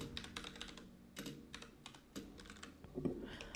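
Rapid typing on a computer keyboard clicks steadily and close up in uneven bursts, fairly quiet, with no voice over it.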